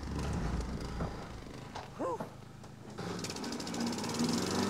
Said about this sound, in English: That is a hungry mower.